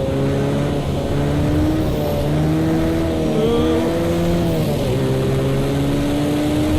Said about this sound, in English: lovely roar of that Mustang